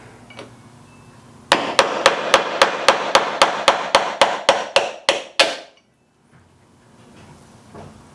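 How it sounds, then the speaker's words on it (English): A hammer strikes metal in a steady series of about fifteen sharp, loud blows, knocking a bearing out of a 6-inch jointer, evenly spaced, then stops and everything goes quiet. "Let's try a hammer."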